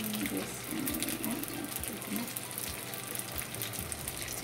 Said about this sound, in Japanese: いくつか巻き終えたら160度の油で揚げていきます